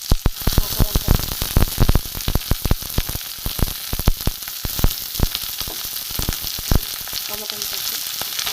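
Chopped onion and green chilli frying in a pan for ghugni, a loud, dense crackling sizzle with rapid popping spatters that keeps going for the whole stretch, close up and without talk.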